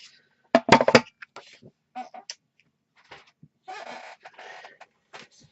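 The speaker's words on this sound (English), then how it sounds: "So this one's a wee bit more difficult to cut down, so I'm actually going to bring my big trimmer in." A large paper trimmer slices through card: one loud burst of crunching cuts early on, then scattered lighter clicks and scrapes, and a longer sliding rasp near the end.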